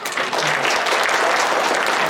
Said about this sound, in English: Let's give Brother Amin one more round of applause.